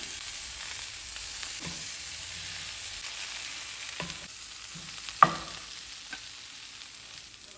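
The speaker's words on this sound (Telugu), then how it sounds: "ఈ ఆకుని కిందకి పైకి కలబెట్టుకోవటం అండి" Mint leaves and coconut pieces fry in a pan with a low, steady sizzle while they are stirred, with a few soft scrapes and one sharp knock partway through, and no one talking.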